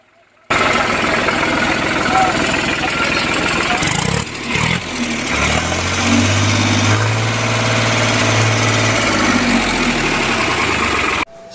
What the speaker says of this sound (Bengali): এখন আপনারা গাড়িটা সাউন্ড শুনুন